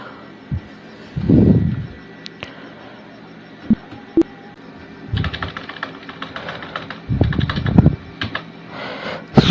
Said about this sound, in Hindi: कीबोर्ड से F12 बटन प्रेस करेंगे